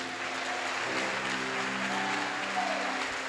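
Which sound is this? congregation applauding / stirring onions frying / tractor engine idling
congregation applauding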